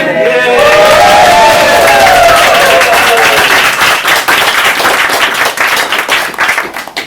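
Audience at an open-mic reading night bursts into loud, sustained applause and cheering, dense clapping filling the room as a few voices whoop over it before the ovation slowly thins.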